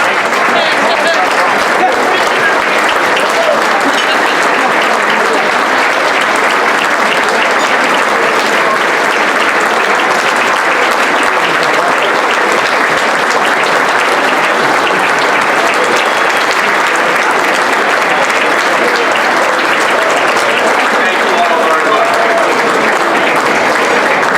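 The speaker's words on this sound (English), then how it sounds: "we are going to give him a huge round of applause" Standing ovation for Senator George Mitchell at a St. Patrick's Foundation dinner: loud, dense, sustained applause from a large banquet crowd, steady throughout with murmured voices mixed in.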